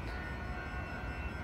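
A passenger train approaches Burlingame station, heard as a faint, steady low rumble with a thin high whine held throughout the brief moment, and no voices.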